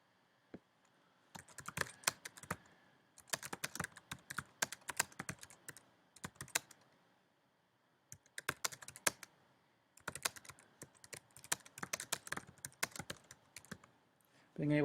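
Bursts of rapid keystrokes on a computer keyboard, typing out a sentence in several quick runs separated by short pauses, close and clear with no talking.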